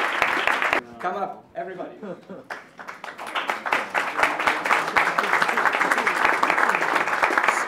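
Conference audience at a congress closing gives sustained applause, dense steady clapping filling the room after a brief spoken call from the stage.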